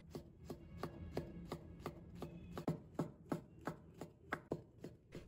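A knife chops shiitake mushrooms into small pieces on a cutting board in a steady run of about a dozen crisp, evenly spaced thuds, close and quiet.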